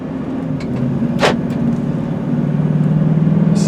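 A white 2001 Chevrolet Suburban LT AWD being driven, its engine giving a steady low drone with road rumble that builds slightly toward the end, plus a brief higher whoosh midway.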